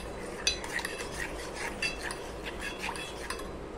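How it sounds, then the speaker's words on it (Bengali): Spoon stirring milk powder into milk in a pot while making sewai kheer, producing a run of light clinks and scraping taps against the vessel at an irregular pace, close and fairly quiet. "এবার পাউডার দুধটা ভালো করে এই দুধটার সাথে মিশিয়ে নেব।"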